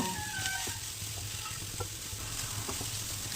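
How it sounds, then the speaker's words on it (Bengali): Ground soybean chunks frying in spice masala, a dense, steady sizzle close up with faint occasional stirring scrapes, continuous and without talk. "সয়াবিনটাকে মশলার মধ্যে কিছুক্ষণ ভেজে নেব"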